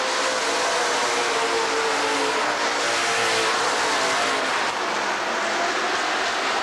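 A field of race cars roaring past at the green flag on Rockford Speedway's short oval, a loud dense wall of engine noise with no let-up, recorded during a 1994 racing weekend.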